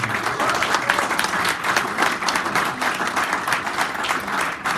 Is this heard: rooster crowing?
no